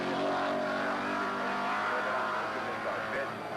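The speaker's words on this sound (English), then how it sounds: "the engines are revving at the limit of what they can take." A Volvo Group A touring car from 1986 Swedish racing revs hard at its limit, a dense, sustained engine roar holding steady throughout with a voice underneath.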